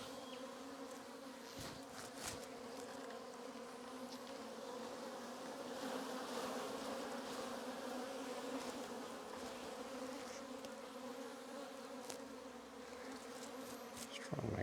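Honey bees swarm around an opened hive during a frame inspection for queens, a dense, continuous buzzing hum held close throughout, with occasional nearby handling noises and no talk.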